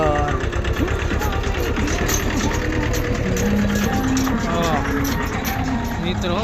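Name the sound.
tractor engine running on a farm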